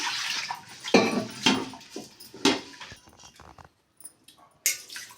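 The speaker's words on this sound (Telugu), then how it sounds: "పప్పు శుభ్రంగా కడుక్కోవాలి వాటర్ వస్తున్నా" Moong dal lentils are washed by hand in water, giving several close, uneven splashing bursts with short quiet gaps between them.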